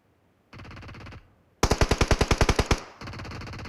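Automatic gunfire in the PUBG battle royale game, three rapid bursts in close succession, the middle one loudest with about a dozen sharp evenly spaced shots, heard alone without talk.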